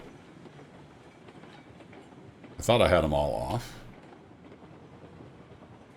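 Freight train in the Railroads Online game rolling on rails into a depot, a low steady rumble under a man's speech with a louder, harmonic-rich swell for about a second midway.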